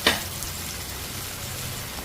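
Assamese-style chicken curry masala fries in a pan, a loud close sizzle with a scraping stir at the start, then continuous bubbling and crackling, no voices.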